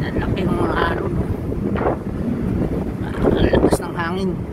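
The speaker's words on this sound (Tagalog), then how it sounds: "Ang lakas ng hangin." Strong wind blowing by the sea in bad weather, buffeting the microphone with a constant roar while someone talks over it intermittently.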